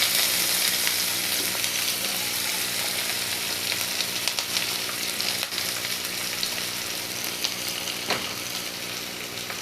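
Onions sizzle and fry in a hot pan while cooking a pigeon curry, a dense, steady crackling hiss with occasional stirring scrapes, close and continuous with no talk.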